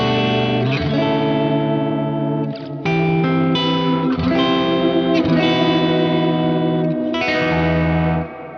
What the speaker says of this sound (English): if you want to add a lot of modulation to your reverb, that is how you would do it